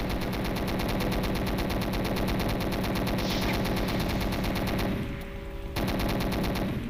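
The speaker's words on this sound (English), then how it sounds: "a chain gun type thing" A chain gun in the video game Doom fires in a continuous, loud, rapid stream of shots, breaking off for a moment near the end and then starting again.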